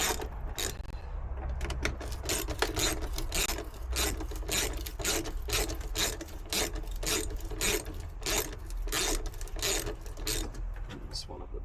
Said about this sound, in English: 7mm socket here, just on a little ratchet, because that is the size we need to undo these 3 clamps.